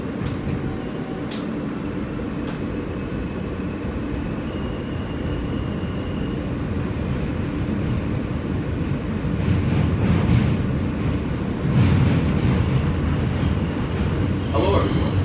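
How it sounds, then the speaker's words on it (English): A New York City Manhattan-bound W local subway train rumbles steadily along the tracks, with rising clatter and roar near the end and a few faint high squeals and tones. "This is a Manhattan-bound W local train."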